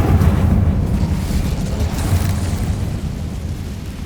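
Incendio fire spell cast in the Hogwarts Legacy video game on PS5, a loud, sustained roaring burst of flame with deep rumbling that stays heavy for about four seconds before easing slightly.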